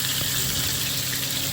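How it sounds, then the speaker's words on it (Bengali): Snakehead fish shallow fries in oil in a pan, a loud, steady, close sizzle without pause. "এটাকে শ্যালো ফ্রাই বলা হয়"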